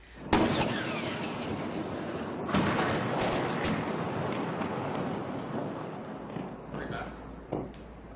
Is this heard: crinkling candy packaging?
no